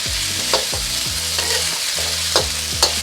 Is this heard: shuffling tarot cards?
no